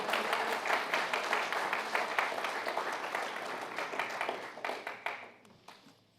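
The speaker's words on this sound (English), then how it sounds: "A round of applause for our sisters, please." A crowd at a UK local election speech in Coventry claps steadily for several seconds, the applause thinning out into a few scattered claps at the end.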